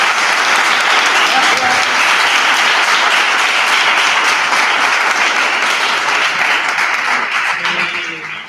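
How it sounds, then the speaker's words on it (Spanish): A colloquium audience gives a doctor a warm send-off with sustained applause. Many hands clap densely for about eight seconds before fading at the end. "Despedimos al doctor con un fuerte aplauso."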